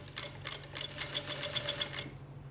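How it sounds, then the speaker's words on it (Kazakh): A sewing machine running a straight stitch along a flared skirt hem, a quick steady mechanical whir of needle strokes, close and alone, stopping near the end. "Енді мына машинкаменен бір қайтарып тігеміз. Тіке тігіспен бір айырып тігеміз."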